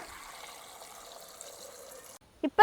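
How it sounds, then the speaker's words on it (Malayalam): Water pours into a pressure cooker holding tapioca and a pinch of turmeric, a steady splashing stream for about two seconds that stops abruptly, followed by a couple of short knocks. "ഇനി നമുക്കിത് വേകാനുള്ള വെള്ളം ഒഴിച്ചു കൊടുക്കാം"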